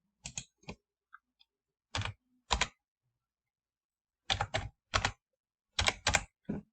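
Keys clatter on a computer keyboard as a fake password is typed, short clustered bursts of clicks separated by pauses, close and fairly quiet with no voice.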